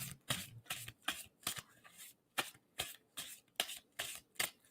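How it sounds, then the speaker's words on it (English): Someone shuffles a deck of tarot cards during a reading, producing a regular series of soft, crisp card slaps and riffles at close range, fairly quiet, with no speech. "And tell me when to stop shuffling on that."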